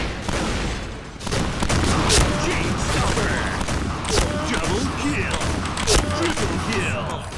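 Dense, continuous gunfire from the online shooter Point Blank forms a loud, overlapping rattle of shots and blasts that runs through the whole stretch, with a voice talking excitedly over it.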